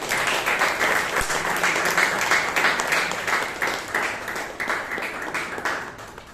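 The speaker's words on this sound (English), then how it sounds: "Please give Toastmaster Alagammai a huge round of applause" Audience applause at a Toastmasters club meeting, a steady round of clapping from a modest group that stays dense and even throughout, with no talk over it.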